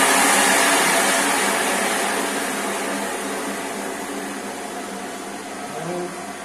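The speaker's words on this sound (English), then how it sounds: "Now we want to use the vacuum" Vacuum packing machine sealing dairy packets runs with a steady broadband hiss and motor drone, loud at first and easing slightly, continuous throughout with faint tonal hum beneath.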